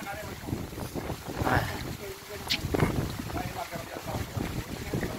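Strong storm wind buffets the microphone in dark weather with rain, rough gusting roar that swells and fades, with a person talking over it.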